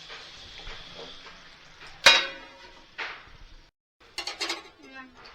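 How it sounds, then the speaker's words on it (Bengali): A metal lid set down on a pan of vegetable curry cooking on the stove, giving one sharp clanking knock over a soft sizzle, followed by a lighter clatter and a brief rattle as it settles. "এবার আমি একটু ঢাকা দিয়ে দেবো।"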